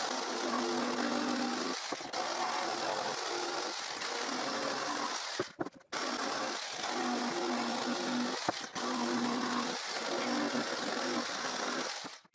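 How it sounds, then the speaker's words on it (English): A jigsaw cuts curves in pallet wood for a garden chair, its buzzing blade running in long steady bursts broken by several brief pauses, fairly close. "I can cut them with the jigsaw"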